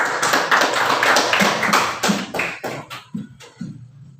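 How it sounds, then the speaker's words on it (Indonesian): Children clapping their hands in a classroom, a brisk run of sharp, close claps that thins into a few scattered final claps. "Ya, tepuk tangan tutup."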